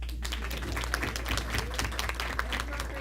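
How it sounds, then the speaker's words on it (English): Applause breaks out for Patrick at a youth mental wellness event, a steady, close round of clapping over a constant low hum, with voices mixed in. "You wanna clap for Patrick?"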